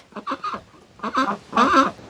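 A hen clucks nearby in three short, separate bursts, each a quick run of clipped calls with brief quiet gaps between.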